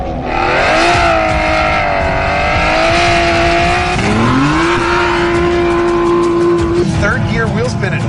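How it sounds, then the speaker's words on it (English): An Aston Martin V12 Vantage S spins its wheels at speed, the V12 screaming loud and steady against the rev limiter in third gear with tires squealing, then the pitch drops and climbs again through a gear change while someone talks over it. "Third gear wheel spin at 90 miles an hour, rev limiter."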